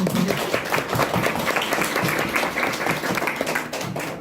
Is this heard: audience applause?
yes